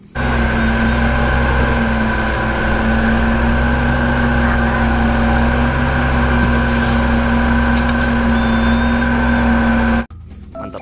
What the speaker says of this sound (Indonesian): di sini ada dump truk pasir